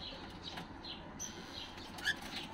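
Caged Baqri and Shukri cocktail birds give faint, scattered chirps and soft calls, with a sharper chirp near the end, over low background noise.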